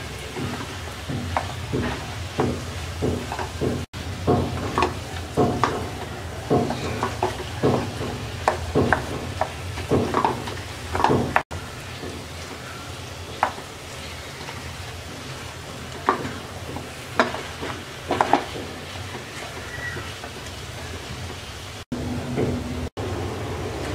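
Sweet olive pickle (jolpai achar) simmering in a pan while being stirred, with a long series of irregular spoon scrapes and clacks over soft bubbling and sizzle, close and steady, and no talking.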